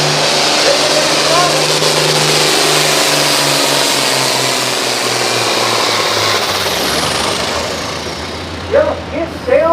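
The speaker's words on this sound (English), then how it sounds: "we got one more red tractor. Big old international." A big red International tractor roars at a tractor pull, its engine droning loud and steady with pitch shifts as it works, then easing off near the end, with an announcer's voice over the top.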